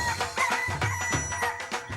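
Chicken clucking and calling in a short burst of repeated, rhythmic squawks, fairly close and loud, with no talk over it.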